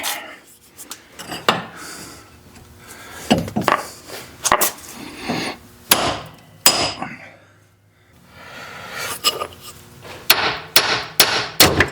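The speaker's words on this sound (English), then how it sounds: "see if I can just hammer it downward." Sharp metallic hammer blows strike a steering knuckle on a 2006 Toyota Matrix in irregular bursts, loud and close, with pauses and some scraping between the clusters of hits.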